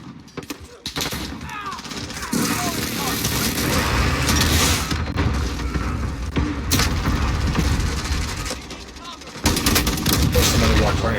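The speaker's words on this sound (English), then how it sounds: "I'm shooting at everything." Call of Duty gunfire rattles in bursts and volleys with booms over dense battle noise, loud and near, while a player talks over it.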